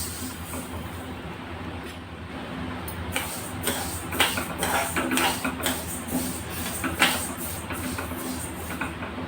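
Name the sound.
mustard seeds popping while dry-roasting in a pan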